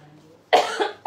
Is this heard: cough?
yes